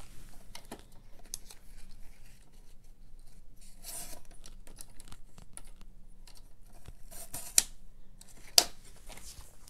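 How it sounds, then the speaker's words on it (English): Paper is trimmed for a Dollar Tree file-folder journal with scissors: quiet, scattered snips and rustles, plus a couple of sharper clicks near the end, all close by. "We're going to trim this down a little bit."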